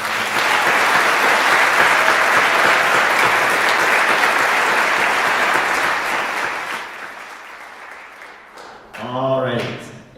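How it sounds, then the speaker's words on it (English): Applause from a ceremony audience honoring an award recipient at a National Honor Society induction, dense and steady for about seven seconds before thinning out, followed by a brief voice near the end. "Let's give her another round of applause"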